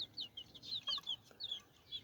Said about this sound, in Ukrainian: Це моя курчатка